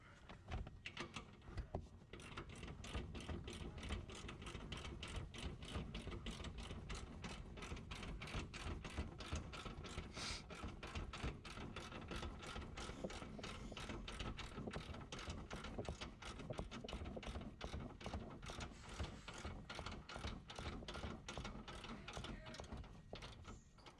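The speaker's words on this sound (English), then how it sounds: "So I went the most that I could with the ratchet and tightened it to the fullest." A hand ratchet tightens the upper control arm bolt on a 2016 Ford Mustang, giving a steady, rapid run of close metallic clicks that continues evenly throughout without talk.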